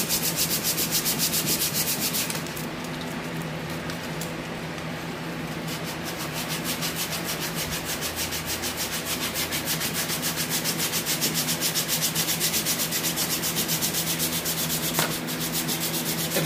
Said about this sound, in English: attempt to sand off the extra paint.